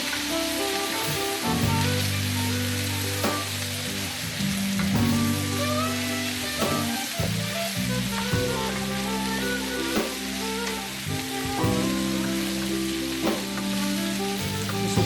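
Beef coated in flour browns in a pot for a red wine stew, sizzling and crackling loudly and continuously, with intermittent scraping and stirring sounds.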